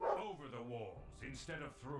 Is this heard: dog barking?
yes